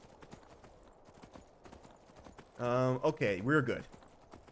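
Hooves clip-clop in a steady rhythm as a horse is ridden toward High Hrothgar in the video game The Elder Scrolls V: Skyrim, quiet and continuous, with someone speaking briefly over it.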